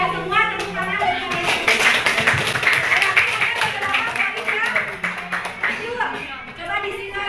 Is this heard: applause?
yes